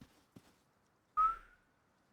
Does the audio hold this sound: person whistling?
yes